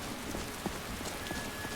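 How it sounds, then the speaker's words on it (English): Steady soft patter of rain falling in the video game Skyrim, a quiet continuous wash with a few faint drip-like ticks scattered through, no talking over it. "And this is just rain"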